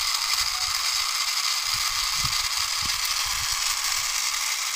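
A battery-powered Thomas tumbling toy car with three wheels runs with a steady mechanical whir and ratcheting gear clatter, close and continuous throughout, with no talking.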